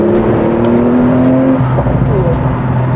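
A TechArt-tuned Porsche with a PDK gearbox roars loudly up close as it accelerates and revs, its engine note holding steady and then shifting as the throttle lifts, with people talking over it.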